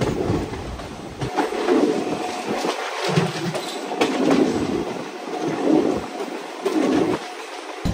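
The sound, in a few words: Goa to Tirupati Express train climbing a ghat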